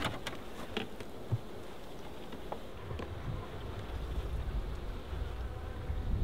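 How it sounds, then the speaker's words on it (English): Bees buzz around an opened beehive during an inspection in the Adelaide Hills, a faint, steady hum with occasional closer passes of individual insects over light outdoor background noise. "But they definitely got a nice little pile of bees underneath there."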